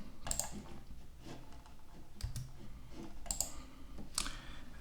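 Keys on a computer keyboard tapped lightly in sparse, irregular clicks over a low room hum, close and quiet, with no talking.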